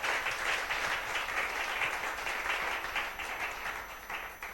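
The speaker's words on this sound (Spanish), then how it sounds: "Denle un aplauso al Señor" Congregation applauding in a church service, a steady wash of many hands clapping at moderate distance, sustained evenly throughout with no clear speech over it.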